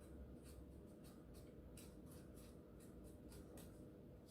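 Sharpie marker coloring the edges of a sheet of paper, with quick rhythmic scratchy strokes repeating steadily and close, no talking.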